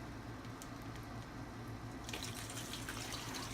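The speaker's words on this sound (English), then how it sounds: "we'll just pour our marinade right over it" Marinade poured over a beef rump roast in a bag, a continuous liquid splash and trickle that grows busier toward the end, with no talking.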